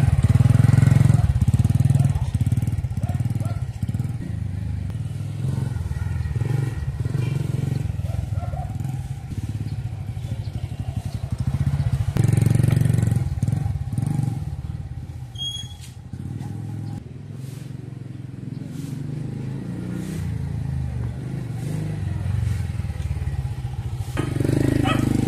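A kickstarted motorcycle on a road test runs with a steady, rough engine note that swells and eases with the throttle, close by and loud, with no one talking over it.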